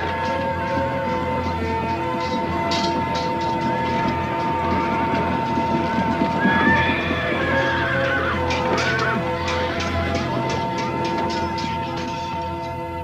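Hot-blooded horses neigh and whinny over a steady, dense background rumble, with a sharper whinny rising near the middle.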